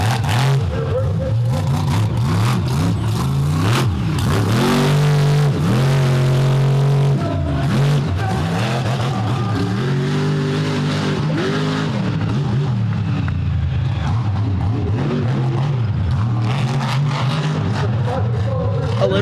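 Monster trucks including Bad Company race on a dirt track at an arena event in Charlotte, NC, engines roaring and revving loudly and continuously with rising and falling pitch sweeps throughout, crowd and commentary mixed underneath.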